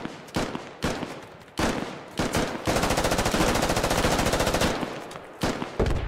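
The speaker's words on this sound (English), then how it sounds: "all you can hear is the bullets landing around" Loud, close automatic gunfire in the video game Squad, with sustained rapid bursts and separate heavy shots as bullets land nearby, dense and continuous through the middle.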